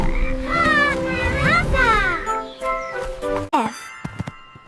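A frog croaks amid a children's animal alphabet song, its rough, rhythmic calls mixing with music and other sounds that end in a few sharp clicks.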